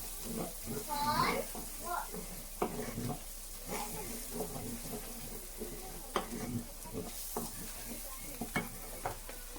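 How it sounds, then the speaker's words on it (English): Chana masala mixture stirred and frying in a pan, a steady sizzle with scraping stirs, while a person talks over part of it. "Mix all together and fry."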